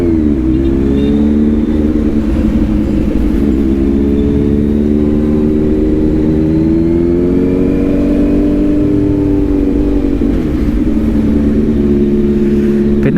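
A Kawasaki Z900 motorcycle engine revs loudly and close for a long stretch. Its pitch climbs and falls in smooth waves over a constant rumbling idle, with no voices.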